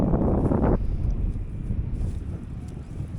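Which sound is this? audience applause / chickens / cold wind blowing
cold wind blowing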